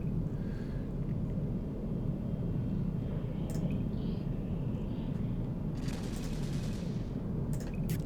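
Ship weapons fire in the space game Eve Online: a steady, dense low rumble of distant gunfire, with sharper crackling bursts near the end.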